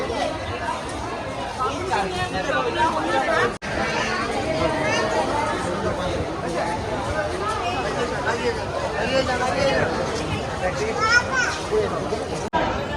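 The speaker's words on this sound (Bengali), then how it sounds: "প্রচণ্ড ভিড় এখন।" A dense crowd packs the inside of the Deshapriya Park Durga Puja pandal in Kolkata, a thick, continuous babble of many voices with children among them, steady and close all around.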